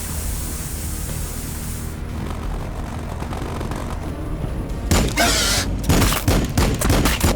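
Gunfire from the video game Warhammer 40k Battlesector: after a steady noisy wash, dense volleys of shots burst in, loud and close, repeating in rapid clusters toward the end.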